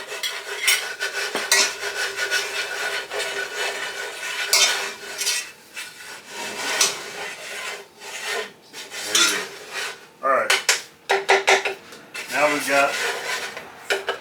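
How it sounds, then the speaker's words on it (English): Country sausage gravy thickened with flour is stirred in a pan, with repeated close scraping and rasping strokes of a utensil against the metal in an uneven rhythm. "So now, Oliver, keep stirring"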